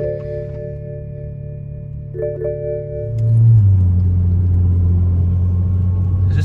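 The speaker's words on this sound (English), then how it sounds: "So we're gonna start this thing up now." A BMW E92 335i with new coil packs and plugs cranks and fires up, the engine catching after a few seconds and settling into a steady, even idle, close by with no talk over it.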